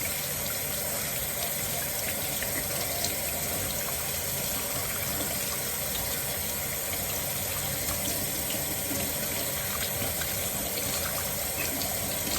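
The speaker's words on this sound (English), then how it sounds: "You're gonna want to use some warm water and wash them for at least 20 seconds" Warm tap water runs from a faucet while hands are washed, a loud, steady, unbroken splashing gush that fills the whole stretch without any talking.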